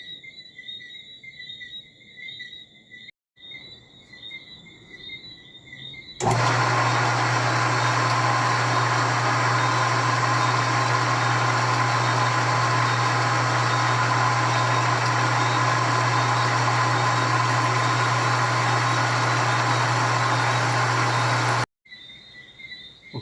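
A 1940s Sebastian lathe cutting metal pipe sets off a loud, steady mechanical drone that starts abruptly and runs about fifteen seconds before cutting off, with a quieter high whine heard before it.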